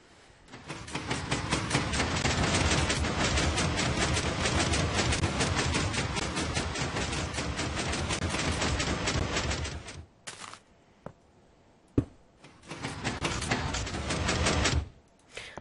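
A built engine running in a video game rattles in fast mechanical pulses for about ten seconds, halts, then returns briefly in two short bursts; no voices are heard.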